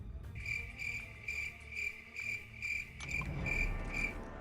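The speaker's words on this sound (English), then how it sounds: "You ever heard of crickets? Because that's what those were." Crickets chirping in regular pulsed trills, about eight evenly spaced bursts at a steady rhythm over a faint low background rumble, fairly quiet and uninterrupted by voices.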